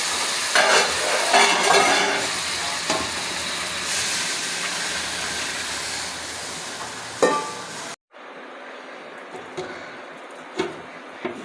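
A fried garlic, cumin and dried chili spice gravy in a pan with water added, a loud steady sizzle and bubbling with a few utensil knocks, then after a brief cut a quieter simmer with occasional clinks.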